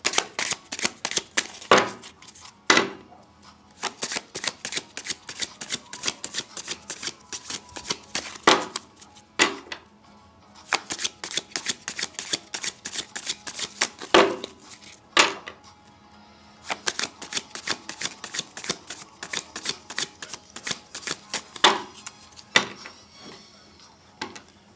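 Tarot cards being shuffled in repeated bursts of crisp riffling and flapping, close and clear, with short pauses between rounds and no talk.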